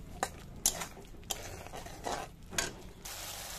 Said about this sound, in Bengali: সব মশলাকে একসাথে এবার একটু ভালো করে কষিয়ে নেব